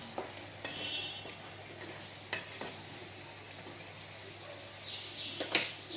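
Raw mango pulao being stirred in a pan after salt is added, a soft sizzle under scattered spatula scrapes and taps, ending in a sharper clink, quiet and close, no speech.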